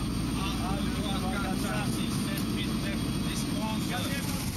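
Steady loud drone inside an aircraft cabin before a Foreign Legion parachute jump, continuous engine and airflow roar throughout with faint voices murmuring beneath it.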